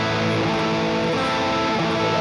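Unmuted metal guitar strings ring together through heavy distortion, a dense, smeared wash of overlapping notes strummed loud and messy for a couple of seconds, with no talking.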